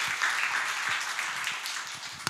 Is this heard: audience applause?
yes